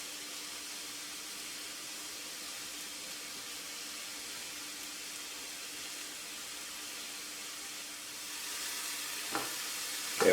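Mushrooms frying in a hot pan for a venison dish, giving a steady, low, even sizzle that runs throughout, with a few sharper stirring clatters near the end.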